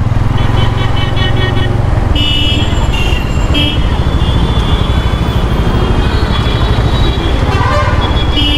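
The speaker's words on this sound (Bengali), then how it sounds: "একটা বাইক চলছে, একটা ইঞ্জিন চলছে, বোঝা যাচ্ছে" A Bajaj Pulsar N160 motorcycle runs on the move through town streets, its engine a loud constant drone with road noise, and a car or vehicle horn toots repeatedly over it.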